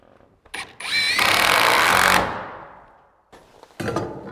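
A power drill drives screws into wood bathroom wall framing: short whirring bursts, then a long, loud drive that winds down, followed by more brief bursts, close and with no talk.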